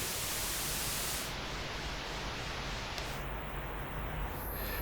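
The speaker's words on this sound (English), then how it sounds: "And here we have a white noise." Steady broadband white noise from a granular synthesis demo, loud and continuous, hissing evenly throughout with slight shifts in its upper texture toward the end.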